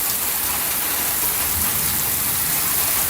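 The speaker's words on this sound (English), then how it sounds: "Now it's heavy rain." Heavy rain pours down steadily in a thunderstorm that brought a tornado, a dense, even roar of close drops with no pauses and no voices.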